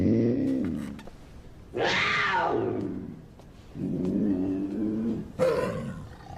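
A puma in a jerky commercial gives drawn-out growling roars, loud and close, a strong rising cry in the middle with lower rumbling growls before and after.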